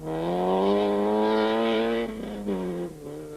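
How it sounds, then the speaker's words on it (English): Rally car engine revving hard on a Tour Natal stage in 2006, with Gugu Zulu at the wheel: a loud, close, steady roar that holds for about two seconds, then dips and surges briefly before easing, with no voices. "Gugu Zulu is throwing his car around with abandon, winning a stage at long last"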